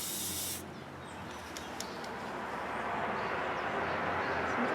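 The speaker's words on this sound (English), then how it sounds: "I am using Montana Gold Acrylic Professional Spray Paint" A can of Montana Gold acrylic professional spray paint gives a steady, close, airy hiss. The hiss is strongest in a brief opening burst, then runs on evenly with faint clicks mixed in.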